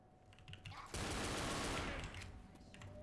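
A gunshot burst in the zombie shooter Left 4 Dead, loud and lasting about a second mid-clip, fading over low in-game background noise.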